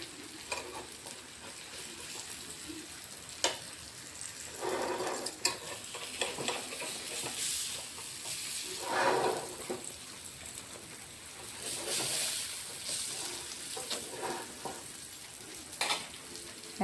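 Bitter gourd leaves frying in hot oil as they are stirred and turned in the pan, a soft continuous sizzle broken by scraping stirs and occasional utensil taps, no talking.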